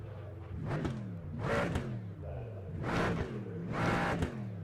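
A GT4 race car in the iRacing video game fires up and revs in four distinct surges, each climbing then falling away over a steady idle, moderately loud and without talk.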